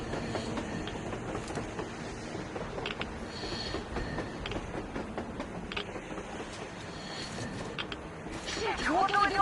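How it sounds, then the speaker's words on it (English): A train rolls across the surface in the video game Metro Exodus, a continuous rumbling clatter of wheels and carriages with metallic squeals. Game ambience and voices run underneath, and it grows louder toward the end. "A train! A damn train on the surface!"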